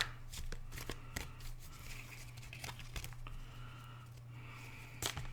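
Tarot cards being shuffled, a run of quiet riffling flicks and soft papery slaps at close range over a low steady hum.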